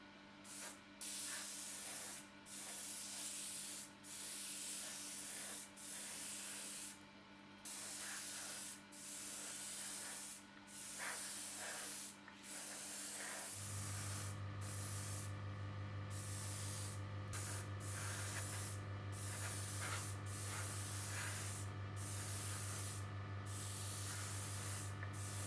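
An airbrush or spray can lays wet, heavy coats of clear varnish onto the body of a 1/24 Tamiya Porsche 959 scale model. Close hissing bursts come with short pauses between passes, then a longer continuous spray over a steady hum.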